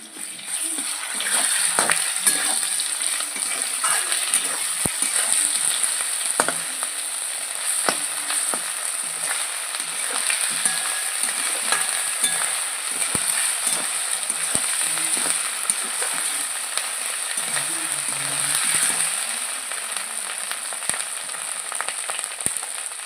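Steady, loud sizzling of a paste frying in a hot pan, with occasional spatula scrapes and stirring clicks throughout.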